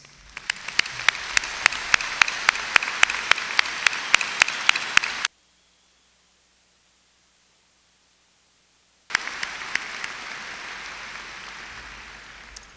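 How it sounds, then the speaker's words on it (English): Commencement audience applauding graduates at a university liberal arts ceremony: a large hall of steady clapping with sharp individual claps on top, cut by a sudden stretch of near silence before the applause resumes more softly. "I want everyone to join me in offering once again to our graduates, these very, very special young people, our appreciation with applause"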